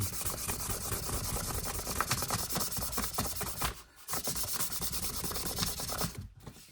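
Steady, continuous rubbing of fine-grit sandpaper against a wooden mandolin, a dense scratchy texture with rhythmic strokes and two brief pauses.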